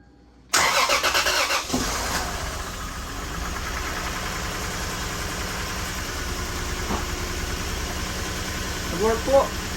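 A car engine cranks and fires up after the battery's negative terminal is reconnected, then settles into a steady, fairly loud idle that runs on alone to the end.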